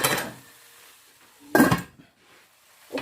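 A lid set onto a pan of pepper chicken breast stir fry gives a sharp metallic clatter at mid-clip, with a faint clink at the start and another at the end, all close and otherwise quiet.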